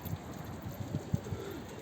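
Soft, low pigeon coos repeat a few times close by, against a faint steady hiss.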